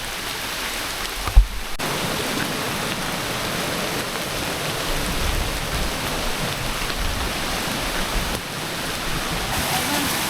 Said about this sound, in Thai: โอ้ตรงนี้เป็นน้ำตกชั้นที่สาม